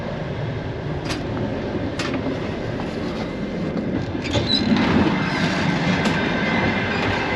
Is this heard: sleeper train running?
yes